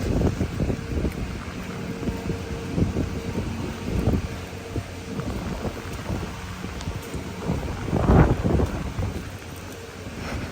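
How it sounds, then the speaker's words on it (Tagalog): Heavy typhoon rain and gusty wind rush in waves, swelling louder in bursts and then easing, with a low rumbling throughout. "biglang lalakas ang ulan at hangin tapos biglang nawawala"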